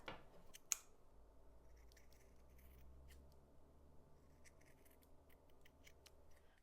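Scissors snip the cord ends of a macrame Christmas tree ornament, one sharp cut near the start followed by quieter trimming clicks and rustles in a hushed room.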